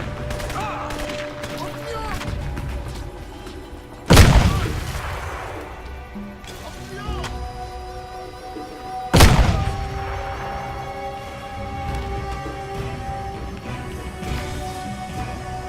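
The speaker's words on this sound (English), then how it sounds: "That was quite a waste of grenades. 4 or 5 grenades for a couple of dudes." Two heavy grenade blasts in the Crysis video game, about five seconds apart, each a loud sudden boom with a decaying rumble, set over ongoing gunfire and game ambience.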